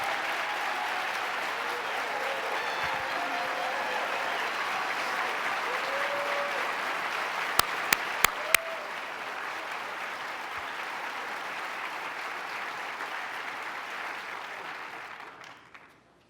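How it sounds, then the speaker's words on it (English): Sustained applause from a large audience at a New York State of the State address honoring the legislature, steady clapping filling a big hall with a few sharp louder claps midway, then fading out at the end. "And let's give them a round of applause"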